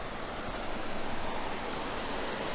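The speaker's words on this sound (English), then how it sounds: "I can hear the water at a tiny little waterfall just to my left" A small waterfall on the River Arun in wetland parkland produces a steady, full rushing roar of falling water, heard close and constant with no voices.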